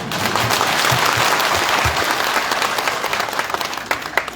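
Crowd at a political rally in Bijhri, Hamirpur, clapping in a broad, dense burst that holds steady for several seconds before thinning out.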